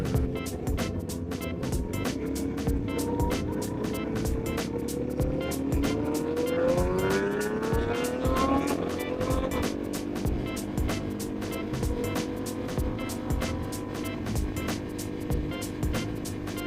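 A KTM RC 390 motorcycle is ridden, its engine note rising and falling through gear changes over a constant rapid ticking or flutter, close and continuous.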